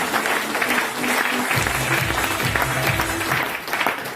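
An audience at a business plan presentation claps loudly and continuously, a dense close wash of hands with a low rumble of room noise underneath.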